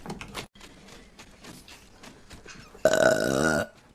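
A loud, long, throaty burp rolls out alone for nearly a second after a stretch of quieter clicks and background noise.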